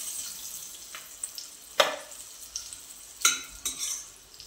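Eggs fry in a kadhai with a soft, low sizzle, broken by a few sharp scraping stirs of a spatula against the pan, and there is no talking.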